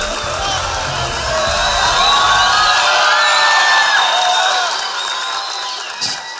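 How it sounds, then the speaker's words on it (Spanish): A studio audience at a Peruvian comedy show cheers and applauds with whoops and shouts, a loud crowd roar that swells in the middle and then fades. "Un fuerte aplauso para Dante."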